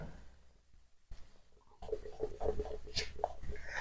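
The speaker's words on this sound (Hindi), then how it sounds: "यहां पे लिख देता हूं मैं टेबल 3" Words written by hand on paper, short scratching pen strokes that start after a quiet pause, close and faint, with no speech.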